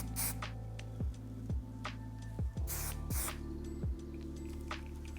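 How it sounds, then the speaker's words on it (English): An aerosol can of light hold hairspray releases a few short, sharp hissing spritzes close by, separated by quiet gaps. "So to finish it, I'm just gonna use a little air control hairspray."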